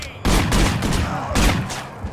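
Sniper gunfire in the video game Manhunt: a few loud, sharp shots burst out in quick succession, each with a rolling tail, close and dominant.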